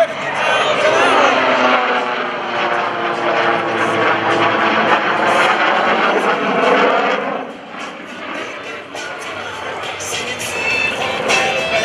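The Screamin' Sasquatch jet-assisted aircraft roars past at an airshow, a loud rising and falling engine howl with a sweeping pitch shift that fades after several seconds, while a voice talks over it.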